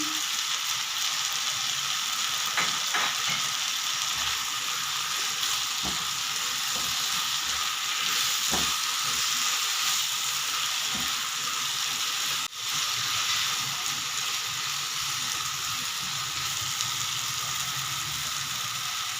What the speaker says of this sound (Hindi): अब इन सब चीज़ मसालों को हम अच्छे से मिक्स करके और इसको 2 से 3 मिनट के लिए लो फ्लेम पे